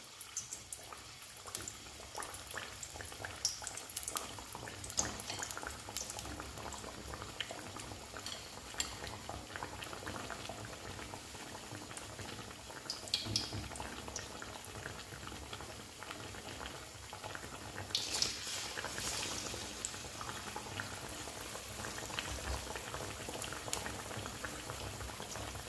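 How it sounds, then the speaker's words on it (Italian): Battered eggplant slices frying in hot oil, a dense continuous sizzle and bubbling heard up close, with occasional light clinks of utensils and no talking. "Le lascio friggere per 2 minuti, 2 minuti e mezzo per lato."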